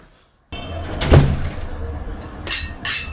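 Door being opened at a home on Eid morning, with a sharp thump or latch near the start and brief rattling and clacks toward the end, no voices.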